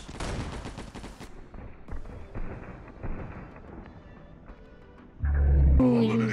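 Heavy weapon gunfire in the mobile shooter Gods of Boom, a dense rattling burst of game shots that trails off into scattered softer effects, then a loud deep booming blast near the end.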